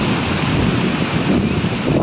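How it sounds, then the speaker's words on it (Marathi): Sea waves wash in steadily at Dahanu beach, a dense, loud rushing roar mixed with strong wind buffeting the microphone, with no pause. "लाटा वगैरे कशा येतात"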